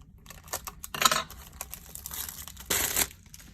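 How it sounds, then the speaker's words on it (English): Scissors cut open a sealed plastic container holding cardmaking and stamping supplies, giving close crinkling and tearing plastic with scattered sharp snips and two louder rustling bursts. "it actually already comes within this, I guess, airproof plastic container, which I'm going to cut open"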